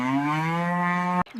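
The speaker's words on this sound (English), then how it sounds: "C for cow." A single long, steady cow moo as a cartoon sound effect, loud and close, ending abruptly with a brief noisy cut.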